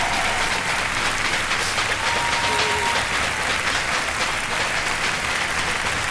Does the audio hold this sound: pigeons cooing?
no